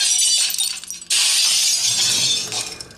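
Pinball machine glass smashes, a bright burst of shattering after a brief lead-in of small clinks, followed by tinkling fragments settling as it fades.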